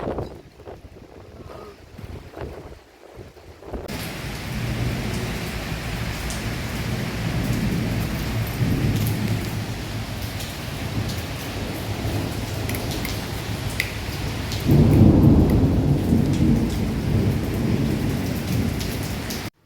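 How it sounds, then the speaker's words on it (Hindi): Heavy rain pours during a sudden thunderstorm, heard from a rooftop: a loud, steady hiss of rain with deep rolling thunder underneath and a swell of heavier downpour toward the end, with no voices. "जैसे ही छत पे आए थे बारिश शुरू हो गई थी और फिर बहुत तेज़ बारिश हुई थी यहाँ पर।"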